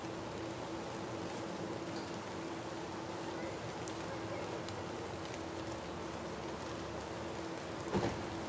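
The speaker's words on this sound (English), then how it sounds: "Started raining really bad now." Heavy rain pours steadily in a forest, a dense, even hiss of drops with no letup, broken only by a single brief thump near the end.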